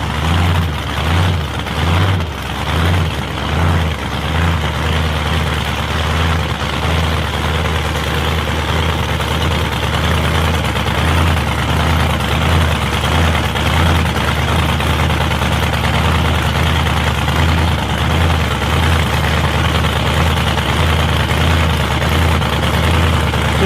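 A turbocharged drag car's engine idling at a test-and-tune drag strip event: a loud, steady low rumble with a lumpy pulsing rhythm early on, continuous throughout.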